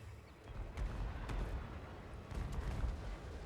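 Mortar artillery firing in a Warhammer Total War 2 battle, with a continuous rumble of low booms and thuds and scattered sharp cracks, dense and overlapping at moderate volume, no speech.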